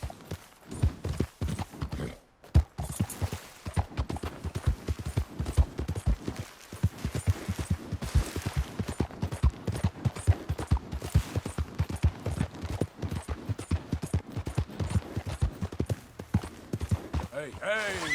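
Horse hooves gallop in Red Dead Redemption II, a fast, steady clip-clop rhythm that runs nearly the whole time, with speech and game sounds over it and a brief pause early on.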